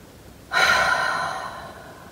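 A single deep breath during a guided mindfulness meditation, a breathy exhale that rises suddenly and trails off slowly over about a second and a half, close and alone.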